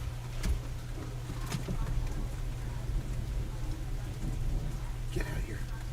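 Rain falls outdoors as a steady broadband hiss over a low, constant rumble, with a few sharp taps and drips standing out now and then.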